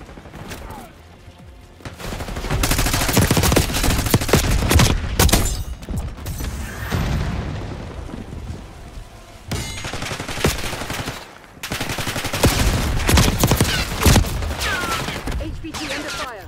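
Rapid bursts of automatic gunfire and explosions in the shooter game Black Ops 6, loud and close, coming in dense clusters separated by brief lulls.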